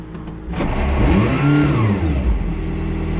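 A McLaren P1 GTR, road-legal and driven in Germany, revs hard once with a rising then falling engine note, close and loud, preceded by a few short mechanical clicks.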